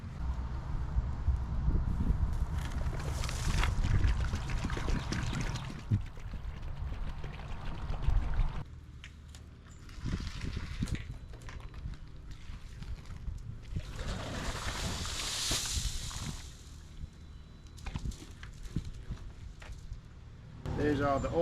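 Old brine water pours and splashes out of a well water filter tank in uneven gushes, with a person talking over the sloshing and some handling clatter.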